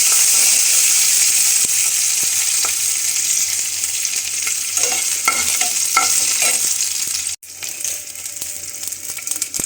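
Green chillies and curry leaves fry in hot oil in a pan, a steady close sizzle with occasional scraping and stirring clicks and a brief interruption near the end.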